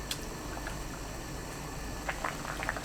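Butterbur stalks boiling uncovered in salted water over high heat, a soft steady bubbling simmer with faint pops and gurgles close by and no talk.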